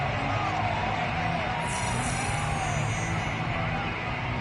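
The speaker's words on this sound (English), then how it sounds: "Plenty of shouts from this crowd as they watch the replay" A football stadium crowd roars and shouts in a dense, continuous wall of noise while watching a replay of a long passing play, loud and unbroken throughout.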